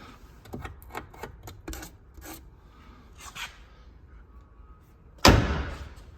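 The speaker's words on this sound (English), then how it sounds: "Door slammer." A single loud car door slam on a four-door Box Chevy Landau lands near the end, after a stretch of scattered clicks, rubbing and scraping noises.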